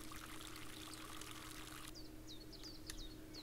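Water pouring from a watering can in the Spirit of the Island video game, a steady close splashing stream that cuts off partway through, leaving quiet background with light chirping bird calls.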